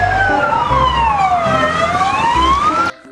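A loud wailing fire truck siren rises and falls steadily nearby, then cuts off abruptly.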